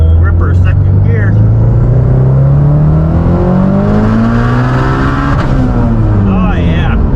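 A Subaru Impreza STI Type RA fitted with a BBR 500 package accelerates hard in second gear, its engine note rising loud and close from the cabin as revs climb, with a shift or lift near the end.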